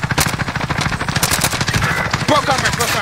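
Rapid bursts of automatic gunfire from a shooter video game crackle loud and close, dense volleys of shots running nearly without pause.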